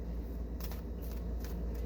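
Tarot cards being shuffled by hand, a soft papery riffle at low level with a few brighter bursts of card noise over a steady background hum.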